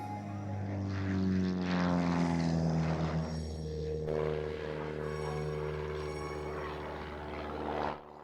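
Aero C-104 propeller aircraft fitted with a Walter Minor 4 engine, flying at an airshow in Pardubice, giving a steady, loud engine drone with a slowly shifting pitch that holds for the whole stretch, with no talk.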